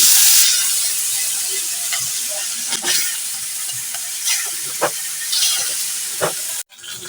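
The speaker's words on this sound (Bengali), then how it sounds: "পাঙ্গাস মাছটাকে ভেজে নিচ্ছি" Pangas fish frying in a pan of oil, a steady bright sizzle with occasional stirring scrapes and spatters, close and loud with no voices.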